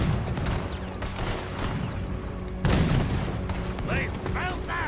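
Gunfire from ships in a Red Dead Redemption 2 battle, loud overlapping shots and booms in rapid bursts, with a big blast partway through and frantic talking over the noise.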